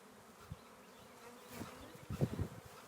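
Honeybee swarm buzzing around empty hive equipment as the bees move in, a faint, steady drone of many wings with a few louder bees passing close near the end.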